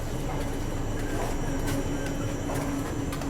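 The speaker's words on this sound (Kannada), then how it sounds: "ನಮ್ಮ ಟ್ರೈನ್ ಎಂಟ್ರ್ ಆಗೈತ್ರಿ ಅರಸೀಕೆರೆಗೆ." A train rolls into Arsikere junction on the Talaguppa–Mysuru line, a steady low rumble of wheels and carriage noise filling the whole stretch at an even, continuous level.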